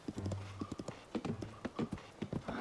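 Horse hooves galloping in Zelda: Tears of the Kingdom, a quick rhythmic clip-clop of repeated beats, fairly loud and close, with no talking over it.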